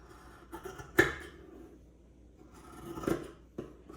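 Sharp fabric scissors slice across a t-shirt from underarm to underarm, giving a couple of crisp snipping cuts with quiet pauses between, close and fairly soft.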